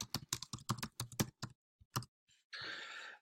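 Computer keyboard typing in quick, uneven bursts of clicks and taps, followed by a short pause and then a steady, brighter clatter near the end, all close and fairly quiet with no voices.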